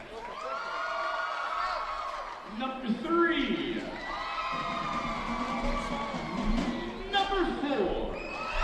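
School basketball crowd in a gym cheering, whooping and shouting loudly as contestants are called, with an announcer speaking over the noise.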